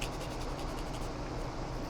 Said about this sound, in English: just grind it down.